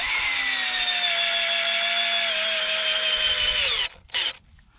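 A power drill whirs steadily for nearly four seconds, its pitch sagging slightly as a screw drives home into a wooden garden box frame, then stops with a brief final burst before quiet.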